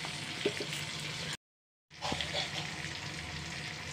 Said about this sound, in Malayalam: ആ ജീരകം പൊട്ടിക്കഴിഞ്ഞപ്പോൾ